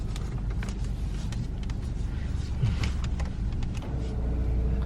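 Car rumbling along a flooded road, a continuous low, loud roar with a slight surge midway and a few faint splashy bursts, with no talk.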